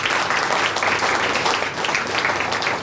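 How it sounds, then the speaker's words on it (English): Loud, sustained applause from a large crowd at a college inauguration ceremony, dense clapping filling the whole stretch without pause. "Do they not need, don't they deserve a great round of applause?"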